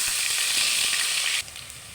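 Garlic paste and onion fry for sambar, giving a loud, close, continuous hiss and sizzle that drops slightly in level toward the end.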